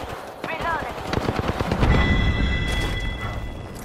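Rapid automatic gunfire in Apex Legends rattles in a dense burst with booming shots and explosions, loud and close, while character voice callouts sound over the fire.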